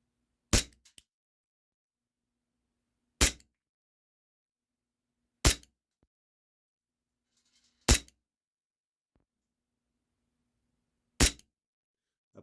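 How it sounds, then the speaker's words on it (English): HFC DarkHawk gas blowback airsoft pistol running on propane and firing .12 g BBs, five sharp, loud single cracks spaced a few seconds apart, each followed by near silence. "last 10 rounds with the propane and the .12 gram BBs. So far, they seem to shoot pretty good in this airsoft gun"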